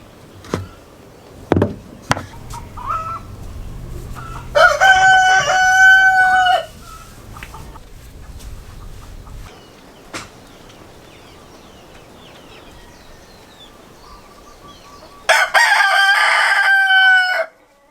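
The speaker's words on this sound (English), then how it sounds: "There's a lot of baby chickens running around right now." Roosters crow loudly twice, a long call near the start and another near the end, with scattered clucks of chickens and chicks and sharp knocks in between.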